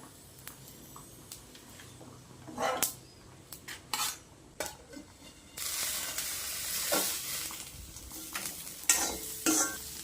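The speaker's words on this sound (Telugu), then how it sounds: "టిఫిన్ బాక్స్లోకి అయితే రోటీ ఇంకా బీన్స్ ఫ్రై చేస్తున్నానండి" Green beans fry in a pan at home for a lunch box, with scraping stirs and utensil knocks at first, then a loud, steady sizzle swelling as they cook.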